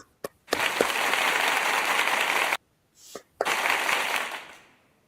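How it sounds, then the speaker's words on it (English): An audience claps in two bursts of dense, steady applause at a talk, each lasting a couple of seconds and separated by a short silent gap, with a few isolated claps at the start. "Come on, where the claps at?"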